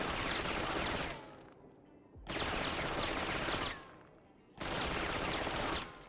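Rapid automatic gunfire from a Stinger in Valorant, several sustained bursts with short pauses between them, loud and dense with no talking.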